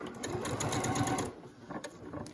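Sewing machine stitching a curved quilt seam at a quarter-inch allowance, a fast rhythmic needle chatter that runs steadily for over a second, then slows into a few short bursts.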